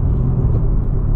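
A supercharged car engine runs through a shift into third gear with a steady, deep rumbling drone and an even whir. Nothing interrupts it and no one speaks.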